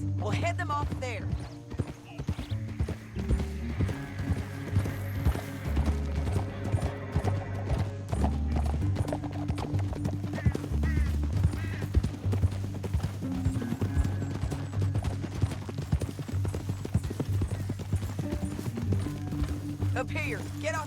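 Horses galloping in Red Dead Redemption 2, a loud steady clip-clop of hooves running the whole time with occasional neighs, a spoken line, and game music underneath.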